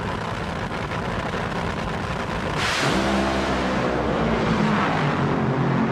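Drag racing cars roar in a championship final round. A loud, sustained engine blare with a harsh broadband rush builds around the midpoint and changes into a lower droning rumble that continues to the end.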